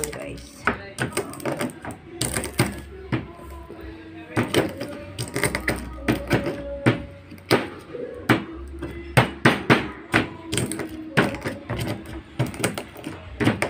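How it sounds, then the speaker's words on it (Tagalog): Cardamom pods cracked open by hand to free the seeds, giving a steady run of sharp, close knocks and crunchy snaps, some sounding like light hammer taps, repeating at an uneven pace with no talking. "Pisain natin guys para matanggal yung seeds."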